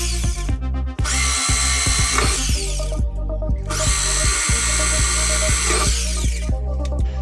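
Power drill boring holes through a plywood headboard base for buttoned carriage tufting, two long loud high-pitched whining bursts with a steady motor hum and short gaps between them, no talking.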